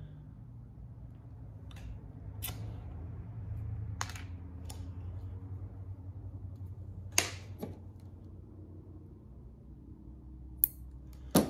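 Fishing line's tag end being snipped while tying a Carolina rig for catfishing produces a few sharp, quiet clicks of cutting scattered over a low, hushed background.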